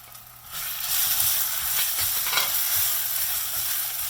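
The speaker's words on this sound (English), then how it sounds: "Now I am going to add the ground paste." Ground masala paste goes into a hot pan of spluttering mustard seeds and curry leaves, giving a loud continuous sizzle and hiss with faint stirring scrapes, close up and with no talking.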